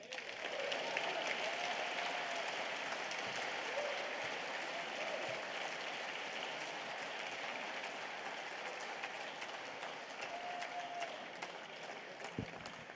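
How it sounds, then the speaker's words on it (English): A large crowd applauds steadily throughout, dense continuous clapping that holds at an even level for the whole stretch with no voices standing out. "So let's have a big round of applause for Mr. Jagmeet Singh."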